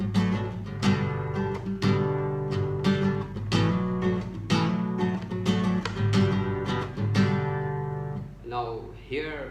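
A guitar plays a 3-to-1 chord movement while learning a song, with strummed and plucked chords ringing continuously for several seconds, then fading into softer, sliding notes at the end.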